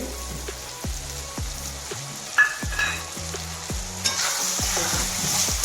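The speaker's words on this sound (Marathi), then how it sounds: "आता आपण अद्रक लसूणची पेस्ट टाकतोय" Ginger garlic paste fries in a pan for a pea and potato pulao, giving a steady close sizzle broken by several sharp spatula scrapes and knocks against the pan, with no voices.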